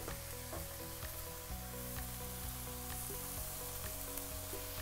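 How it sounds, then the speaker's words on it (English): Onions and chicken liver sizzle steadily in a frying pan, a close, dense crackle with small pops and occasional stirring scrapes, no talking. "Now you want it to sizzle like that"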